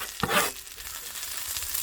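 A brief burst of hot sizzling, like food hitting oil in a pan, then a steady crackle that continues nearby.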